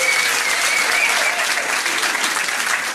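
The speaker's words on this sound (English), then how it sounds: "give them a round of applause" A pub quiz audience claps for the sound engineers, steady dense applause from a roomful of people filling the whole moment at close range.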